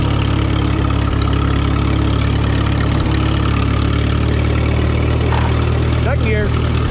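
A Minneapolis-Moline UB tractor engine runs steadily throughout, a loud, low, even drone with a faint gear change or clunk near the end and no talk over it.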